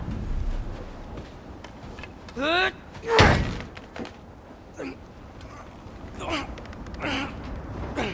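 In God of War Ragnarok, a frozen door is forced open with a heavy thud and a sharp cracking slam, mixed with straining grunts and brief talk over a low ambient rumble.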